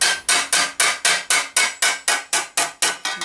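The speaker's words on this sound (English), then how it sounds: "18 gauge just literally folds under your weight of your hammer." Thin 18 gauge steel plate for a medieval armour thigh plate is hammered in a steady series of about thirteen sharp metallic blows, each ringing briefly before the next, close and loud with no talking.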